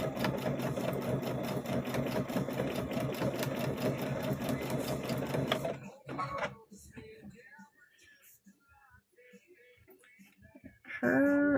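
A sewing machine back stitches a trick-or-treat bag: a steady, fast, close mechanical whir for about six seconds, then stops, followed by faint handling noises and a brief final burst of stitching.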